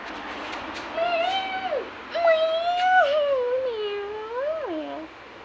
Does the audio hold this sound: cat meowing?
yes